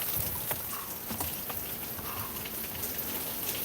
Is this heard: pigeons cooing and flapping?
no